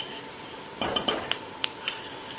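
A spoon clinks against a metal pan while turmeric is stirred into tomato chutney, making a short cluster of light scraping and tapping hits over faint background hiss.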